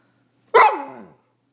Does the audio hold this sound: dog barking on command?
yes